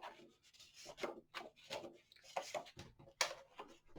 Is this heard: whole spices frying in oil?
no